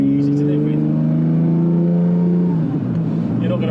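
Lamborghini Diablo SV engine under way, droning loud and close with a slowly climbing pitch before it drops and roughens as the revs change.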